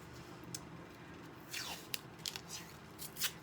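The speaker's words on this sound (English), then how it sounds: "And then I'm going to add some of my magic blue tape," Blue painter's tape is pulled and pressed down while a vintage doll is assembled, faint rasping peels and short sticky rips against a quiet background.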